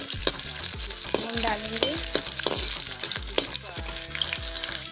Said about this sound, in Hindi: हरी मिर्ची, इसको अच्छे से हम चला देते हैं